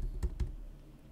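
A few quick keystrokes on a computer keyboard while typing a file title, two distinct clicks close together and then quiet, faint and close by with no talking.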